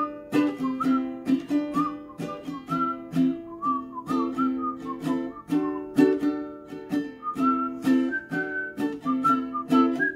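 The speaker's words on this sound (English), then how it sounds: "Will you whistle with me?" Clear whistled melody of a children's song carried alone at a steady moderate volume, with bright wavering tones and short rhythmic phrases repeating throughout, from a morning circle singalong.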